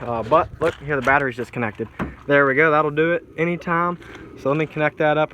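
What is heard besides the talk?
No everyday noises stand out.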